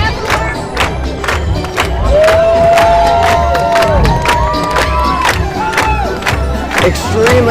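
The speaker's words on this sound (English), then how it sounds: "I'm in a very dense crowd here following the parade around." A dense crowd packs the route of the Main Street Electrical Parade, a loud, continuous roar of cheering and shouting voices, with sharp repeated claps and whoops rising over the crowd noise throughout.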